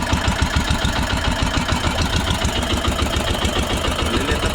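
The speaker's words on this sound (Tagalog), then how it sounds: "kasama natin maliliit na bangka" Small boat engines drone steadily nearby, a continuous low, throbbing putter with no talk over it.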